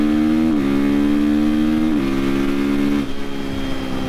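A 2025 KTM 450 EXC-F supermoto single-cylinder engine revs loudly close by, its pitch climbing in repeated steps like gear changes, then settling into a rougher idle.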